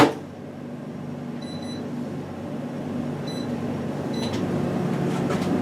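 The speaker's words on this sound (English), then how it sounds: "microwave for a little bit and let it melt" A running microwave oven hums steadily as ingredients melt inside, a low droning whir with a few faint high beeps, close and otherwise unbroken.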